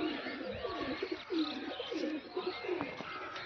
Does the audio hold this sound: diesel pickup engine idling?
no